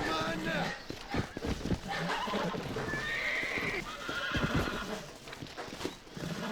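A horse in the Western game Red Dead Redemption whinnies loudly and its hooves clip-clop, while people talk over the animal throughout.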